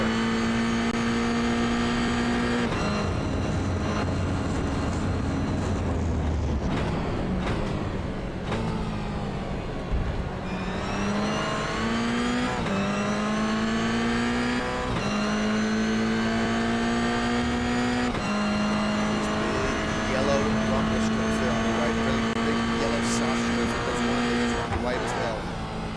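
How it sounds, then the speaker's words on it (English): A Toyota GR86 engine in the iRacing sim at Circuit of the Americas climbs and drops through repeated upshifts and braking downshifts. A commentator speaks over the steady engine note throughout. "Watch the steering wheel and listen into those throttle and brake inputs go to work."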